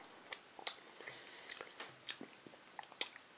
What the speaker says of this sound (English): I've just been chewing on it and it ain't going nowhere